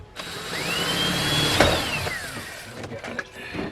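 A power drill bores into a boat's interior panel, the motor rising in pitch as it spins up, then dropping away as the bit works through, with scattered clunks and handling noises near the mic.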